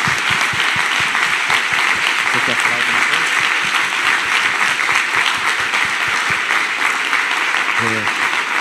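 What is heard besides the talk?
church congregation applauding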